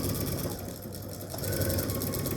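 A sewing machine fitted with a walking foot stitches through a bulky Christmas stocking, a steady close mechanical whir and rhythmic needle chatter running continuously and slightly strengthening near the end.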